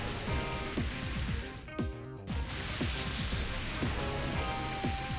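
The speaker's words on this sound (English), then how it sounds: "Rain Dance" Rain from the Pokémon move Rain Dance in Pokémon XD: Gale of Darkness, a steady wash of falling rain under video game music with a brief dip midway.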